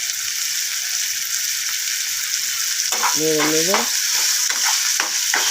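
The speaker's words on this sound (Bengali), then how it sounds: "হলুদ দিলাম, দিয়ে এবার নেড়ে" Spices with turmeric frying and being stirred in a pan for a cucumber dish, a loud continuous sizzle with scraping stirring strokes near the end and a brief tonal squeak in the middle.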